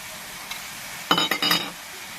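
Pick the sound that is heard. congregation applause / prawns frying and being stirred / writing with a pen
prawns frying and being stirred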